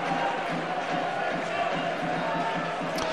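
Continuous crowd noise fills a football ground at Chesterfield, a steady dense murmur of many voices with scattered shouts, moderately loud and even throughout with no clear single speaker.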